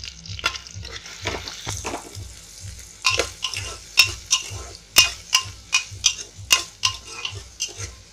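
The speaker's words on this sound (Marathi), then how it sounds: "कांदा, हिरवी मिरची, ही लाल मिरची, हे सगळं जरा आहे ना तेलामध्ये चांगलं फिरवून घ्यायचं" Onion with green and red chillies stirred in hot oil for a Marathi raw mango masoor dal, a steady sizzle broken by rhythmic scraping strokes of the spoon that grow louder and more regular toward the end.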